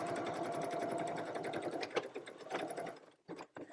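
A sewing machine stitching down the middle of a zigzag seam on a wool crazy quilt, a close, fast rhythmic mechanical whir that runs steadily, then stops abruptly with a few short bursts at the end.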